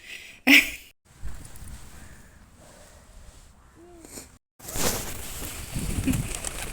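Pigeons cooing softly outdoors amid rustling and handling noises, with a brief loud burst near the start and steady background noise later.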